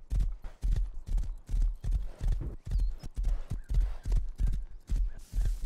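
A horse gallops in the survival video game Rust, its hooves beating a steady, loud, close clip-clop rhythm throughout, with a brief whinny-like sound near the end.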